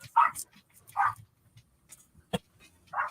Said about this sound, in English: Time for your dogs to go nuts.